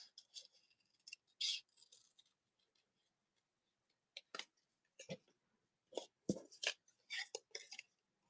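Scissors snipping paper in short bursts of crisp, close cuts separated by pauses, with a few small clicks between.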